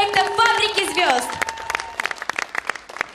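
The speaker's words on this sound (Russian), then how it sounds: "Ваши аплодисменты!" A fashion forum audience breaks into applause after a presenter's introduction, scattered claps building into a crisp patter while the announcer's voice trails off at the start.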